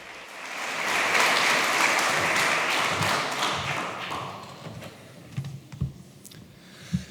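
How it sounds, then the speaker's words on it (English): An audience at a freedom rally gives applause that swells, holds for a few seconds, then thins to scattered claps and thumps near a microphone. "You can applaud Alexandre Sousa."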